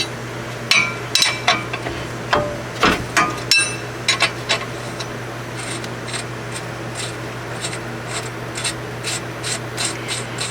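A wrench working loose a stuck upper control arm nut that won't stay tight, with a run of sharp metallic clicks and knocks, then a faster string of lighter ratcheting taps, close and with no talk.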